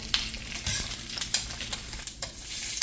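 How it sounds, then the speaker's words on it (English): Dried guajillo and ancho chiles lightly frying in a pan, a steady close crackling sizzle with a few brief sharper pops and stirring scrapes, no voices. "we're just going to lightly fry these up"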